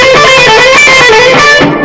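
Electric guitar played with staccato picking without the neck pickup, giving a scratchier, brighter distorted tone: a rapid, steady stream of short picked notes, loud and close, with no one speaking.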